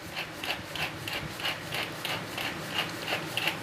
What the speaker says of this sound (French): Et puis là, un bon moulin, un bon tour de moulin à poivre.